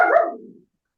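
A dog lets out a single close, loud bark that tails off quickly into silence.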